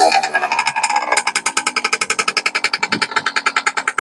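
A moped's small two-stroke engine sputters to life and settles into a fast, steady buzzing putter, close and loud, before cutting off abruptly.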